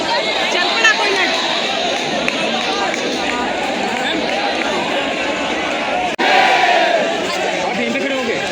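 A dense crowd surges forward toward a stage entrance, a continuous loud roar of many voices, shouts and footsteps close by, with one sharp break near the end.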